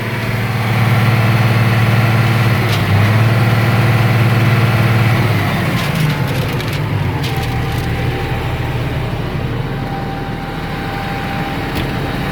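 A 2008 Massey Ferguson 7490 Dyna VT tractor engine idling loud and close, running smooth and even with a steady low drone that eases slightly partway through, alone with no talk.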